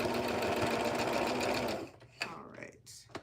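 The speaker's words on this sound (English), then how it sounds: "finishing the seam, 1/2-inch seam allowance, making sure she's in there and she's caught." A sewing machine runs steadily and close as a chainstitch seam is finished on a vest, then stops. A few clicks and handling noises follow in a quieter stretch with a little talk.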